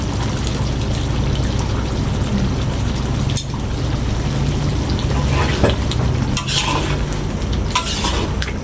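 Tamarind juice is poured into beef sambal frying in a pan, giving a continuous sizzle with splashing and a few clinks, while voices talk faintly over it.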